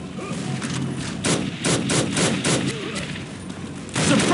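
Rapid gunfire bursts from Unreal Tournament 2004 team play, loud and close, with repeated sharp shots in quick clusters, a brief lull, then another burst at the end.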